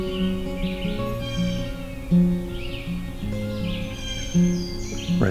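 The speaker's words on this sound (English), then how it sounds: "Red-shouldered hawk again." Red-shouldered hawk calls ring out in Allegheny National Forest, repeated loud cries at intervals over a backdrop of other birds singing, clear and fairly near.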